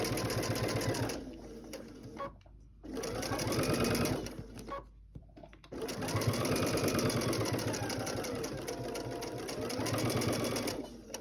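A sewing machine chain piecing quilt pieces runs in long, fast, steady mechanical bursts, stopping briefly twice between runs, loud and close with faint talk in the background.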